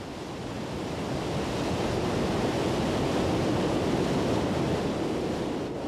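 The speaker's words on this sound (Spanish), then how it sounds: "El agua se precipita a través de 3 cascadas, una a continuación de la otra, y se estrella 380 metros más abajo." A river waterfall plunging through three successive cascades, a steady, dense roar of rushing water that holds loud and unbroken throughout, with no voices.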